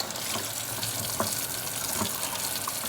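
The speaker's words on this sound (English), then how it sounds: "just put it under hot water and just rip it off like that" Hot tap water runs steadily over raw chicken in a kitchen sink, a continuous close splashing gush with small spattering bursts as the meat is handled under the stream.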